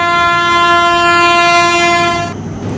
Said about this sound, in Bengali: জোরে হুইসেল বাজিয়ে ট্রেন ছেড়েছে।